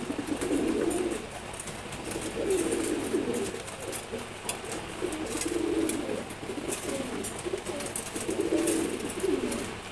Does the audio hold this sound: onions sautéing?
no